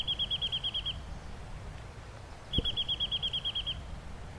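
Two bursts of rapid, repeated high-pitched chirping notes, each about a second long, made by a person pishing to imitate a bird call in chaparral, separated by a pause with a brief low thump, over faint background noise.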